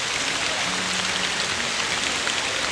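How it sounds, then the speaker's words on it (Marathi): Heavy monsoon rain pours down at night in rural Konkan, Maharashtra, in a dense, loud, unbroken roar of drops striking surfaces close by, heard from under a tree. "मुसळधार पाऊस आला आहे"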